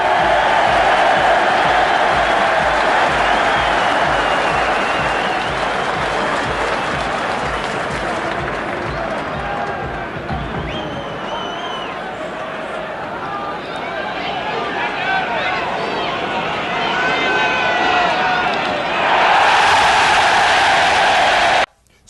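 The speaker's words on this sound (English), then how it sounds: "the crowd goes wild" A large crowd at a 1973 event cheering and applauding wildly, loud and sustained, with someone talking over the roar throughout.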